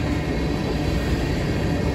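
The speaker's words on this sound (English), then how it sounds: "A crude oil train coming out of Mexico, empty, going to Corf, Texas, to be loaded and then sent back to Mexico." An empty crude oil freight train out of Mexico, bound for Texas to be loaded, passes close by with a steady loud rumbling roar of wheels and cars and no talk.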